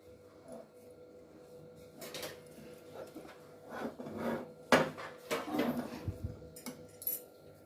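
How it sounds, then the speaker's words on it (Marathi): Metal kadai lifted off a gas stove in a home kitchen while making sesame laddoos, with scattered clinks and scraping knocks of cookware, a few sharper bangs among quiet handling. "आता ही कढई ना मी खाली उतरवून घेते गॅसवरनं"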